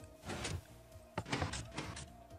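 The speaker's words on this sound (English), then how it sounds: "I heard a piston door open." A Minecraft piston door opening in a haunted house build, heard as several mechanical whooshing thunks in quick succession at moderate level, with no talking.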